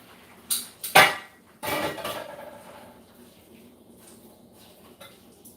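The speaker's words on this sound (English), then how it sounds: "so I'm going to strain them in this strainer." Cooked vegan Top Ramen noodles poured into a strainer in a kitchen: a couple of sharp metallic clanks followed by a rushing pour of water that fades to a quiet trickle.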